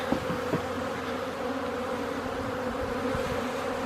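Honeybees buzz steadily at a hive entrance in mid-February at the end of overwintering, with foragers returning carrying pollen; a continuous close droning hum with no voices.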